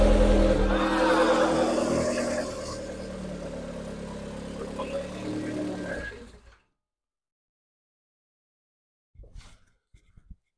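A Calibra Turbo engine fitted in a Nova GTE starts for the first time and runs loud and rough at close range for about six seconds before cutting out abruptly, followed by silence and brief faint sounds.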